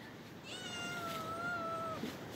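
A cat meows from up in a palm tree in the evening, one long drawn-out plaintive meow that is faint and distant over quiet background hiss, followed by a small brief sound.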